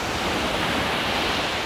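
Dense, steady wash of surf from high ocean waves at Monumen beach in Balikpapan, a broad continuous roar with some wind noise and no distinct breaks or voices.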